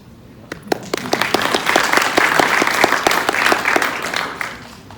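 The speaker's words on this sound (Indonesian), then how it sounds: "Tepuk tangan dong Chris." Applause from an audience at a business presentation, starting with a few scattered claps that quickly swell into a loud, steady round before easing off.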